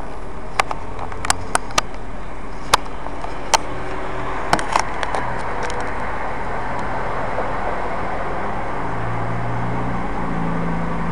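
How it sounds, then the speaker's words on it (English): Road traffic outside, a steady broad rumble of passing vehicles with a few sharp clicks and knocks on top, fairly close and continuous with no talk. "I'm outside with traffic,"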